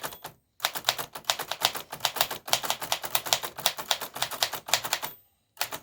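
A 1933 Smith Premier portable typewriter with glass keys types in quick, close bursts of sharp key strikes, pausing briefly twice, with no voices.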